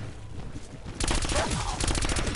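Rapid gunfire from a weapon in Call of Duty Black Ops 4 Zombies, Voyage of Despair map: a dense, loud burst of continuous shots starts abruptly after a quieter moment and keeps hammering steadily to the end.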